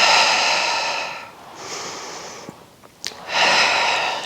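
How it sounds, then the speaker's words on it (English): Breath pushed out in long, airy exhalations during a Pilates reformer arm exercise, two broad hissing breaths separated by quieter inhales and a couple of small clicks, close and fairly loud. "exhaling as we pull down"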